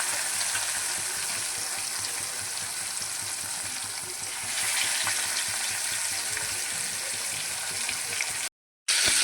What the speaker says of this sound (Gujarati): તેલમાં આપણે મછલીને ફ્રાય કરી લઈશું